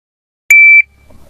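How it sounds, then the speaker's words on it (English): One sharp electronic shot-timer test beep, high-pitched and steady, sounds for about a third of a second, then near silence follows. "I'm gonna give you a test beep just so you know what it sounds like."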